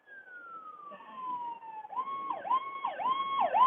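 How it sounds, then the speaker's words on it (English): An ambulance siren starts with a long falling tone, then switches to a rapid repeating wail that grows steadily louder as it approaches. "Oh, ambulance. Ambulance. Call the ambulance."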